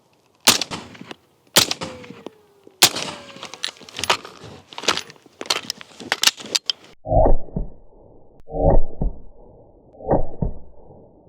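AR-15 rifle shots ring out as a series of sharp, loud cracks at irregular intervals, followed by three duller, heavier thumps.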